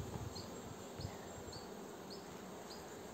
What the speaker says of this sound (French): Il va falloir que j'enlève les abeilles